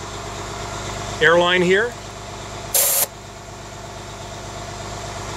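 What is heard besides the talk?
RV engine running on fast idle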